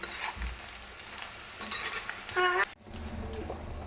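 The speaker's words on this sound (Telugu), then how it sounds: "రెడ్ అయినంత వరకు వేంపుకోవాలి" Chicken pieces frying in oil while being stirred in a pan for a traditional chicken pickle, a close, steady sizzle with scraping spoon strokes and a clink before the sizzle drops briefly and continues.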